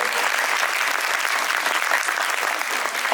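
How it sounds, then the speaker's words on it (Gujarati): An audience in a school hall claps hard to welcome an honoured guest, a dense, loud, continuous wash of applause that lasts the whole stretch with no break. "એમના માટે આપણે એકવાર જોરદાર તાળીઓથી એમને વધાવીએ"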